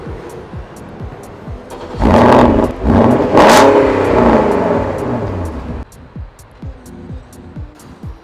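Car engine started and driven to move the car during a valeting session, with rising revs and a loud engine surge in the middle, then settling back to a lower idle hum with repeated clicking.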